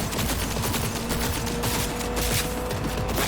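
Rapid gunfire from a gun in the Cyberpunk 2077 video game, a dense stream of quick repeated shots with mechanical clatter, loud and continuous across the whole stretch.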